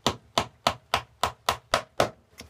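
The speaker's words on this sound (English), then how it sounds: "Tiny little ball peen hammer." Small ball peen hammer tapping a 1/8 inch pin into a knife handle: nine sharp, evenly spaced metallic taps at a steady rhythm, close and clear with no talk.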